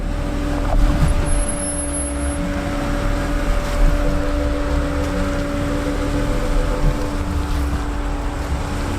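A twin-turbo German 4x4 with around 500 horsepower pulls away in first gear, its engine a steady loud rumble with a sustained tonal hum running throughout, no voices.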